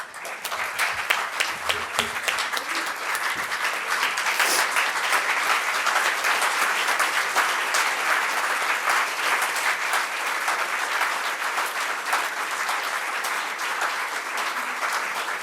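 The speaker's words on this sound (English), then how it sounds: "I think we should just get up and clap for them." An audience gives sustained, loud applause that holds evenly for about fifteen seconds with no break.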